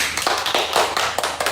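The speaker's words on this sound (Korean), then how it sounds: "자, 박수!" Classroom applause: a short burst of children clapping hands, sharp overlapping claps in a quick, uneven rhythm, close and fairly loud.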